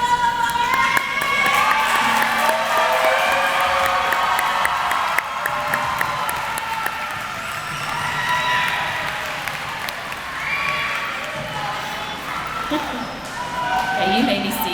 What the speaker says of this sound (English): Graduates, please rise and look into the audience and applaud those people who were there to